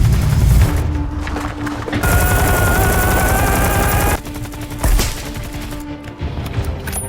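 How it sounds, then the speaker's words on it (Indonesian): Machine gun and sniper fire in a war film: loud, dense bursts of rapid automatic gunfire in long stretches, broken by short pauses and single heavier shots, close and continuous throughout. "Dengan aba-aba dan tembakan senjata mesin, pasukan sniper Ukraina pun melesatkan tembakannya"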